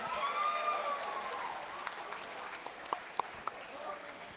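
Faint, distant applause for a birthday coach fills a wrestling tournament gym, a soft steady patter with a few sharper claps and thin whistling tones above it.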